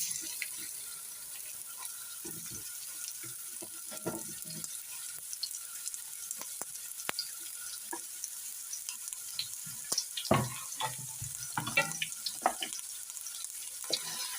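Cumin seeds and chopped onion sizzle in a pan for a coconut masala eggplant dish, with a steady close hiss broken by occasional clinks and stirring scrapes.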